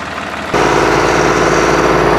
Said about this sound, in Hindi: और ये न्यू हॉलैंड 3610 मुकाबले में आया है।